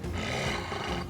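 A wolf snarls and roars as it is unleashed in the video game Battle Brothers, a dense, continuous growl that holds loud and close for about a second with no voices.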